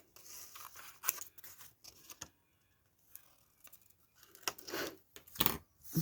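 Scissors snip through paper for a card decorated with a Bourbon rose, in a few scattered bursts of cutting separated by quiet pauses, close and fairly soft.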